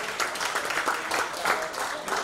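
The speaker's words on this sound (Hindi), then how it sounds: "बजाओ जरा जोर से ताली बजाओ।" A small audience of around ten people at a business tech-day gathering in a Mumbai hotel claps steadily for a couple of seconds, the scattered hand claps blending into moderate applause.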